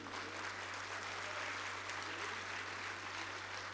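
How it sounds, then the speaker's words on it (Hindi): Steady applause from a comedy show audience fills the room, a dense continuous wash of clapping with no break, though it stays fairly faint overall. "ये तालियां सर इसरो के लिए मैंने इसलिए बजवाई है"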